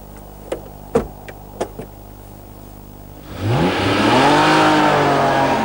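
A 1990 Honda NSX on a racetrack: a few sharp clicks and taps at first, then the engine surges in, revving up and rising steadily in pitch, loud and close.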